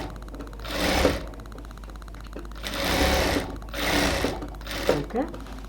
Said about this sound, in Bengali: এবার এক একটা পাশ থেকে আমরা ড্রেসটাকে এখন সেলাই করে নিচ্ছি।